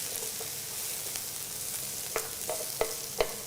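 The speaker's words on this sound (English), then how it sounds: "Already sizzling for us here." Green peppers fry in a pan with a steady, quiet sizzle, and a few sharper crackles and pops stand out near the end. No one speaks.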